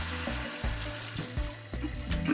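Water is poured into a hot frying pan of pork chow mein and sputters in bursts of splashing and sizzling. Brief gurgling pulses repeat several times at close range, with no talk.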